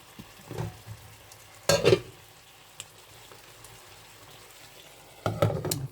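Chicken frying in oil in a pan gets stirred, giving three scraping, sizzling bursts separated by a quieter steady sizzle.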